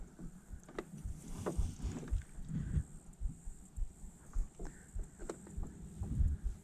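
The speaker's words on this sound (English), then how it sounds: "Just again going through and basically reversing the boat." A small boat reverses across a farm pond while spraying lily pads, giving choppy, uneven splashing and knocking bursts with wind noise, close and fairly faint, with no talk.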